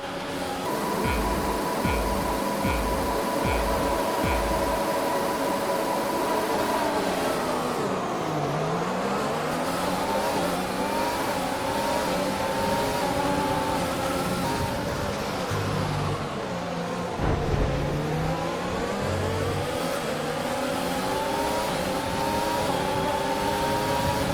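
Formula 1 race car engine from the F1 2020 video game on a formation lap, humming and revving steadily throughout with rising and falling pitch sweeps, loud and continuous with no talk.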